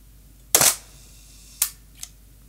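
Leaf shutter built into the lens of a film camera, fired after cocking: a sharp mechanical clack followed by two softer clicks about a second apart, crisp and close in a quiet room.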